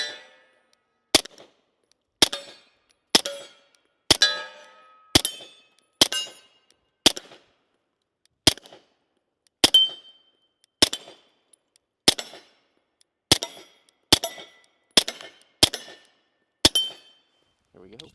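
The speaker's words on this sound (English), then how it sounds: "Let's go ahead and load it up and shoot it some more." A suppressed Beretta 92X pistol fires subsonic ammunition with roughly eighteen loud, sharp, close reports. The shots come at a steady pace with short gaps, and each ends in a brief metallic ring.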